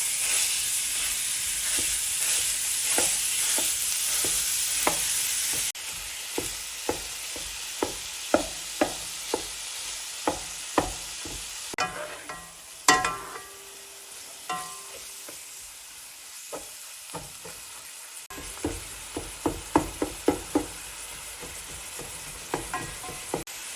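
A pound of lean ground beef (hamburger) browns in a frying pan, with a steady hiss of sizzling fat that drops back midway, broken by sharp scraping clicks of a utensil stirring the meat.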